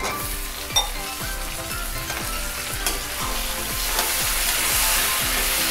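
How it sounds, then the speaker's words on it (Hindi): Mushrooms frying in oil with onions in a pan for matar mushroom, a loud, continuous close sizzle with rhythmic scraping strokes of a spoon against the pan and an occasional clink, no voices. "इसको अच्छे से फ्राई करना है इस तेल में।"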